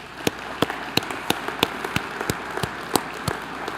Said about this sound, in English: will we please give them a round of applause.